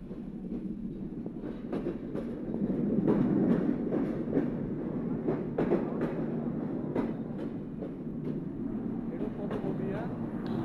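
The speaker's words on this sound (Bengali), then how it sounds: "এই যে আমাদের ট্রেন চলে এসেছে" A passenger train rolls into a railway junction in Bangladesh with a continuous low rumble and intermittent wheel clacks, nearby and moderately loud, while crowd murmur carries underneath.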